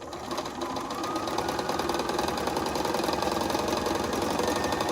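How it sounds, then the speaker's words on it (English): A sewing machine stitches a flower patch in a fast, even, close rattling run that holds steady throughout. "And I just sew up the other side."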